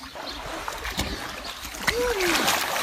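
Water splashing in a backyard pool as a child makes waves, with irregular splashes and sloshing over steady broadband noise, a brief squeak-like glide near the end.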